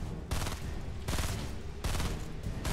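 Rapid bursts of automatic gunfire from the video game Fortnite, three loud sustained volleys separated by short gaps, close and dominant with no talking.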